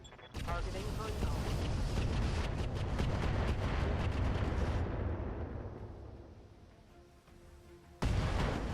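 A volley of 80 LRM missiles slams into a light mech in a mech combat game: a dense, roaring barrage of rapid blasts that rumbles loudly, then fades, before a fresh burst of impacts erupts.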